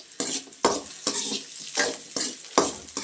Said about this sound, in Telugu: సో చూడండి, ఇప్పుడు మన ఎర్రగడ్డలు కూడా వేగిపోయాయి